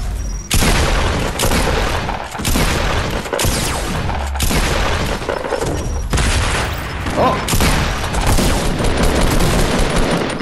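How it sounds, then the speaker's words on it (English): Explosions and gunfire in the video game Fortnite make a loud, continuous barrage of booms and bursts, with one sudden exclamation from a player over it. "Them explosions are actually scaring the living shit out of me."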